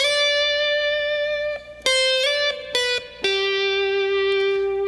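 Slow electric slide guitar phrase from a solo, sustained gliding notes sliding between pitches, played alone, clear and close with a slight effect tone.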